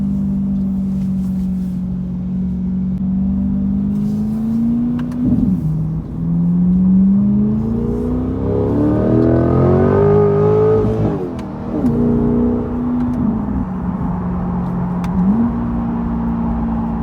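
C8 Corvette fitted with a Z06-style center exhaust, idling with a deep drone, then revving up and climbing before dropping back through downshifts with crackling blips and settling to idle again, close and loud.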